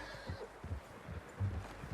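A horse in Red Dead Redemption 2 gives a faint neigh amid soft hoof clops and low rumbling ambience, quiet and distant with no talking.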